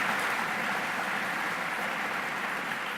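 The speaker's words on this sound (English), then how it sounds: "Please give her a round of applause for her sharing her story." Audience applause at a community gathering for Lift Orlando and the West Lakes neighborhoods: a dense, even wash of many hands clapping, steady and fairly loud for the whole stretch, with no talk over it.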